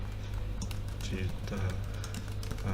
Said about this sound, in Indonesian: Di sini misalnya saya ketik jasa digital,